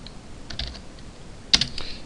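A few quick bursts of typing on a computer keyboard, short clusters of soft key clicks with a sharper tap near the middle, alone and close.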